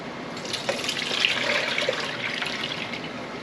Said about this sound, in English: I'm just going to go ahead and pour the vinegar right in here.